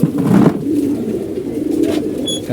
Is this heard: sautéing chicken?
no